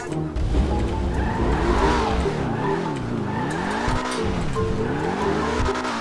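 A supercar in the game GTA V roars along continuously, its engine note rising and falling through repeated gear changes while tires squeal and skid, loud and close throughout.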